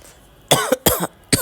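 Three sharp, close coughs in quick succession, separated by brief silences.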